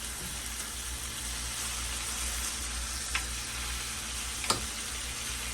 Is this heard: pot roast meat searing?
yes